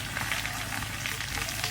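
Chicken paturi wrapped in banana leaf sizzles on a hot pan, giving a steady, close frying hiss with faint crackles running throughout, no voices.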